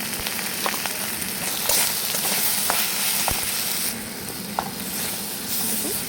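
Bitter gourd stuffing with turmeric, cumin and salt sizzles and crackles steadily in a pan, with occasional stirring scrapes and pops close by.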